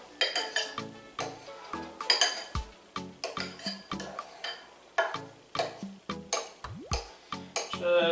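An avocado being chopped into chunks with a butter knife in a kitchen. The blade strikes the dish in quick repeated clinks and taps, a steady irregular clatter of metal on crockery that is close and fairly loud.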